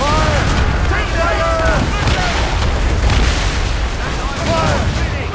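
Ship cannons fire in Assassin's Creed Rogue, heavy booming blasts rolling under continuous loud battle noise, with shouting voices and whistling tones layered over the din.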